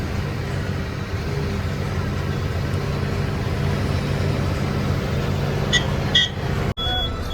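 A hot truck engine runs steadily after a long Mumbai–Mangaluru trip, a close, even low rumble that ends in a sharp click near the close.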